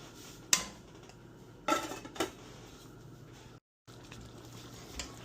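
A metal lid clatters onto a pot of pork belly kaldereta on the stove, a sharp clank and then two softer knocks, with a faint simmer underneath.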